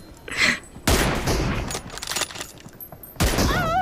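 Several sharp gunshots in PUBG sniper-rifle team deathmatch with M24 rifles, loud isolated cracks spaced a second or two apart, with faint game sounds between.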